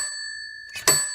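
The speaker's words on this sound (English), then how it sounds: "doorbell." A doorbell rings, one brief bright chime that enters abruptly near the end over a quiet steady electronic tone.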